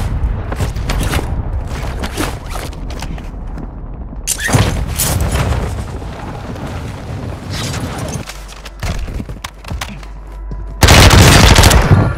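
Automatic rifle bursts and rapid gunfire fill a Warzone 2 match on Ashika Island, loud and continuous with heavy booming shots, a brief lull, then an especially loud close burst near the end.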